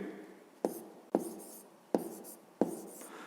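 A pen writes out a fifth-grade math calculation on paper in four sharp, scratchy strokes spaced about half a second apart, close and clear with no talking.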